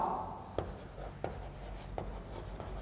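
Marker or chalk strokes on a board during a biology lesson, a steady scratchy scrawl broken by four sharp taps at regular intervals, close and fairly quiet with no talk.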